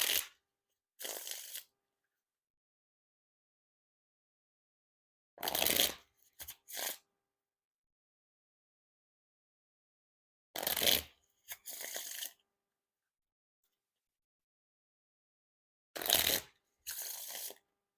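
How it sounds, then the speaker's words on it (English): Light Roast playing cards being riffle shuffled four times, each a short crisp burst of fluttering snaps followed by a softer bridge riffle, separated by silence. "Now time for the riffle shuffle or bridge shuffle."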